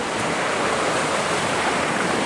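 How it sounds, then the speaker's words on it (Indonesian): River flowing from Cikarang past a rural Sundanese crossing, a dense, steady wash of rushing water heard loud and close with no voices. "Jadi ini aliran sungai dari Cikarang terus menuju hilirnya"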